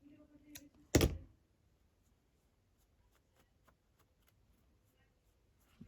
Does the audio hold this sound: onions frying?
no